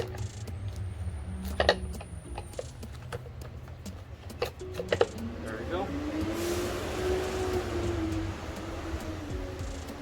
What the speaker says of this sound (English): Sorry for the noisy truck behind, picking up trash.